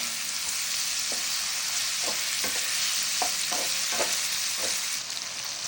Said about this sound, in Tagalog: halu-haluin ko lang siya para white yung meat